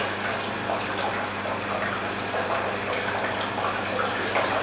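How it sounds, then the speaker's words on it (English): A pump circulates water in a Speidel Braumeister 50L home-brewing system, producing a continuous rushing gush over a low steady motor hum, close and even throughout. "Let's turn on the pump."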